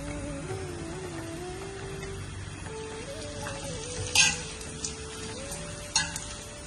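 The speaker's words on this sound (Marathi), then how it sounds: "तेल तापलंय, छानपैकी पापड तळून घेऊयात आपण।" Steady crackling sizzle of papad frying in hot oil, with a few sharper bursts and pops, close by, over a faint tonal hum in the background.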